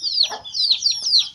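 An angry hen gives a quick run of four sharp, close clucking calls, each a short rising squawk, loud and with no talk over it.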